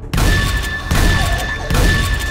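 Shotgun blasts in 7 Days To Die, three loud, booming shots spaced roughly a second apart, each with a heavy low thump and a short decay, and no voices.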